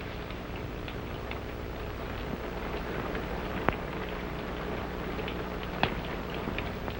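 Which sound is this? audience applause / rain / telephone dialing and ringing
rain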